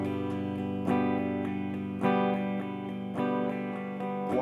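An electric guitar is strummed in a steady down-up sixteenth-note pattern, sustained chords ringing with sharper accents landing roughly once a second, played alone and close.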